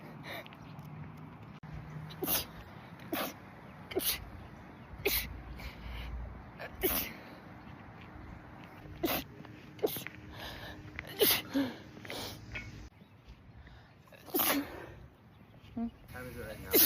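A person has a run of repeated sneezes triggered by sunlight, sharp bursts recurring every second or so over quiet background, with a little breathing between them.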